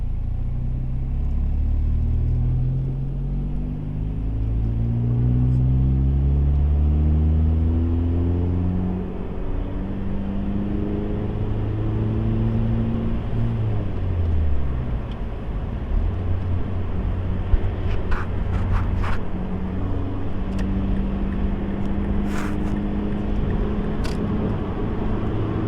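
Engine of a 2010 Mazda 3 Sport with a six-speed manual, driven in third gear, drones low and steady, rising and falling in pitch as revs climb, with a continuous near rumble and no talk.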